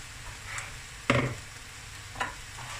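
Baby spinach cooking down in a pan, a soft steady sizzle with a few louder rustling stirs, close and alone without talk.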